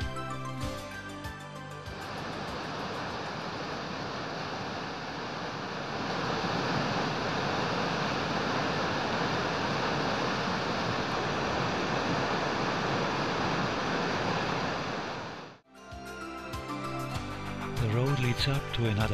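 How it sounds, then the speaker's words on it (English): A broad, steady roar from Towers Waterfall, a mountain cascade heard from a lookout, fills the scene continuously, loud and unbroken, with a brief dip and some wind buffeting near the end. "This is the lookout for Towers Waterfall."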